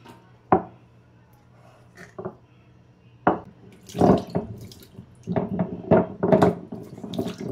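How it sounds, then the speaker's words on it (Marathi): A new stone grinding slab and mortar being washed under tap water: a few sharp knocks of stone at the start, then running water splashing and trickling over stone in uneven surges, growing busier toward the end. "हा पाटा स्वच्छ धुवून घ्यायचा असा पाण्यानं"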